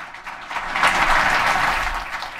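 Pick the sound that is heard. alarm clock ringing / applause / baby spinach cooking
applause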